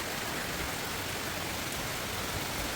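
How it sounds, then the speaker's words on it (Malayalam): Heavy rain pours steadily, a dense continuous hiss with no pauses or other sounds. "നല്ല മഴ കേട്ടോ"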